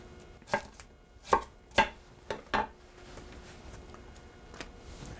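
Knife chopping vegetables into big chunks for a mirepoix for oxtail stew stock: five sharp board strikes in an uneven rhythm, close and clear, then quieter kitchen handling with a faint late tap.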